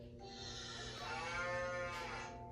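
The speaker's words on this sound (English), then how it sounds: "The cow mooed" A cow mooing from a storybook projector, a single long, loud, close moo sustained for about two seconds with no talk.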